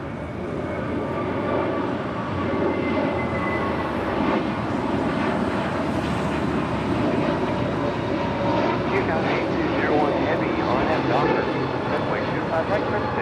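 JetBlue Airways jet at LAX, a continuous broad roar of jet engines holding steady and fairly loud throughout, with a person talking at times over the noise.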